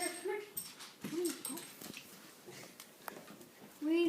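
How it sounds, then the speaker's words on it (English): A fat pet dog whimpers and gives several short high yips in brief bursts, fairly close, with scattered handling noise and a voice in the background. "my dog. He's really fat. And he's super fat."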